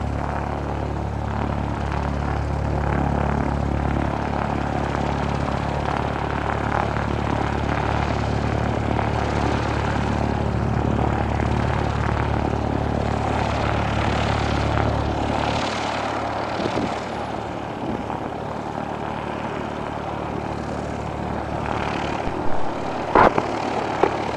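Propeller airplane engine running on a first solo flight, a loud, steady droning hum that holds for most of the stretch, then drops away near the end, leaving lighter rattles and a couple of sharp knocks.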